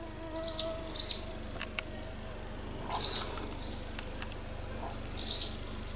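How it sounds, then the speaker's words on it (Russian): A small bird chirps outdoors in a village in early summer, sharp high tweets in three brief clusters with scattered short ticks between, fairly close over a quiet background. "Ну, птичка, чирикни еще погромче."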